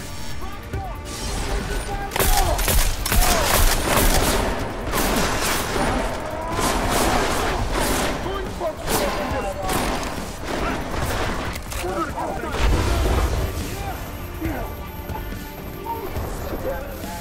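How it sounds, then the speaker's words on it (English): A silenced shotgun fires in the video game Deus Ex: Mankind Divided, with repeated muffled shots and sharp impact crashes spread through a busy, fairly quiet mix. "we're actually going to go on over to my silenced shotgun"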